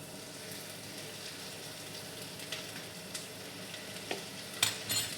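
Ginger garlic paste frying in a pan for vegetable biryani, a steady low sizzle throughout with a few stirring clicks and scrapes near the end, fairly quiet and with no voices.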